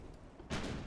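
Big naval guns fire in the warship game Ultimate Admiral Dreadnoughts, a single broad boom that starts abruptly partway through and holds as a rumbling roar, moderately faint.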